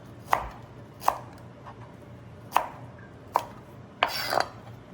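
Knife chopping cilantro on a cutting board while preparing Vietnamese beef pho, six sharp close thunks at uneven spacing with a quick double strike near the end, no voices.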